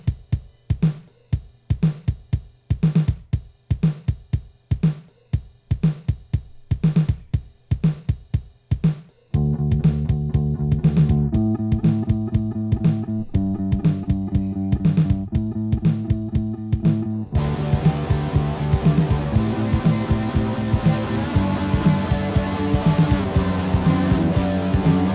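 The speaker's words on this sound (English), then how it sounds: "is that bounce down drums, bass and rhythm guitar, and it sounds like this." A mono bounce of drums, bass and rhythm guitar mixed onto one track in Logic Pro: sparse drum hits open the passage, then bass and guitar join, with the mix growing fuller and louder toward the end.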